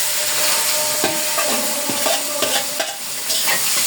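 Cabbage goes into a pan of lightly fried fish and is stirred, with a loud continuous hiss of frying and intermittent scraping of a utensil through the mix, close up and free of talk.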